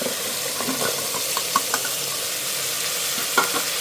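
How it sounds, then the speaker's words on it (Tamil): Small onions frying in hot oil in a clay pot, a steady bright sizzle with a few stirring scrapes and clicks, close and continuous with no talk. "ஸோ இந்த இடத்துல நான் வந்து ஸ்மால் ஆனியன்ஸை நான் ஆட் பண்ணுறேன்."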